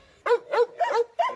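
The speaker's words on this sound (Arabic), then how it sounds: "كلب بول تيرير" A bull terrier barks four times in a steady rhythm, each bark short, sharp and close, with quiet gaps between.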